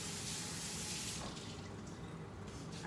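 Tap water runs steadily into a kitchen sink as squashes are rinsed under it, a continuous close splashing hiss that briefly softens partway through.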